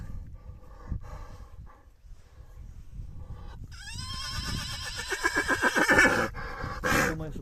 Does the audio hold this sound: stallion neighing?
yes